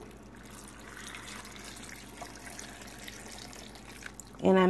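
Water pours into a cooking pot on the stove as a faint, steady trickle over background noise, ending in a short louder splash and clatter.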